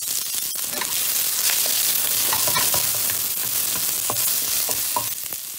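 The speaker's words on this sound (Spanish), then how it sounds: "En la misma sartén vamos a echar un poquito más de aceite y pondremos nuestra cebolla y el ajo." Chopped onion and garlic frying in oil in a pan, a steady close crackling sizzle with scattered pops and light stirring scrapes.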